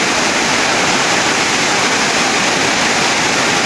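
Heavy rain pours during a thunderstorm while floodwater spreads across a court, a loud, dense, unbroken roar of falling water that fills the whole clip with no talk.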